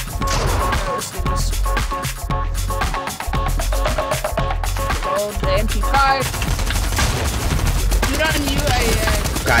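MP5 submachine gun in Fortnite fires in loud, rapid bursts of shots, packed densely over other game sounds and continuing through most of the stretch.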